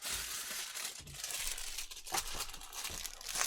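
Parchment paper crinkles and crumples up close in a series of crisp, irregular rustles and crackles, with no voices.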